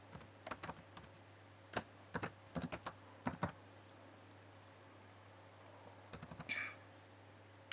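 HTML code is typed on a computer keyboard as sparse, close, quiet key clicks in short irregular clusters with gaps between them, in an otherwise hushed room.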